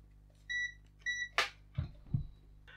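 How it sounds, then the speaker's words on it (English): Two short, high electronic beeps from a multimeter continuity tester checking a faulty Nintendo Switch game card reader, each followed by faint clicks and knocks from the probes, quiet and close. "let's try the beeping device"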